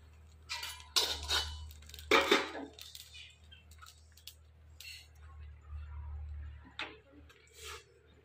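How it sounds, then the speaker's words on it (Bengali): Black cumin seeds dry-roasting in a hot, dry pan for a Bengali taki fish paste, heard as faint, scattered ticks and clinks of seeds and utensil against the pan, with a few louder scraping bursts. "আগে কালো জিরে ভাজে নেই শুকনো খোলায়"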